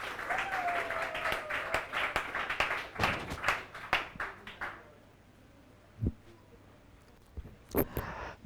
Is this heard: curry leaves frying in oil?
no